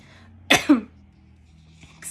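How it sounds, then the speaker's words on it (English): A single harsh cough from someone getting over a cold bursts out, followed by a short throaty second hack, then quiet with a faint breathy sound at the end. "excuse the cough."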